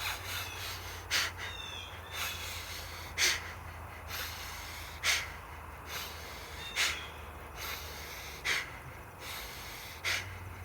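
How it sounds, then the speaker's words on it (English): Rapid fire-breathing exercise: sharp, forceful nasal exhales repeat at a steady pace of roughly one every second and a half to two seconds, close and fairly loud over a low steady background hum, with no talking. "I do that in between my fire breathing sets, so it looks like this"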